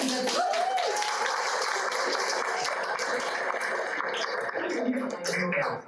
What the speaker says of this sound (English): So, big applause for the new timers.